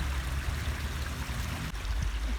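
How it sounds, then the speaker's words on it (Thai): A stream in a seaside public park on the Isle of Man rushes steadily, a constant close burble with no voices. "ทำเป็นลำธารนะคะ"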